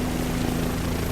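Airplane engine in a flight simulator video game drones steadily while taxiing, a constant loud propeller-like hum with a fixed tonal whine, even and unbroken, with no talking.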